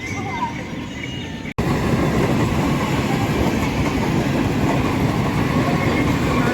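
A train rolls past a railway level crossing at Habra, a loud, continuous roar with rapid rumbling of wheels that fills the whole stretch, starting abruptly after a short quieter moment.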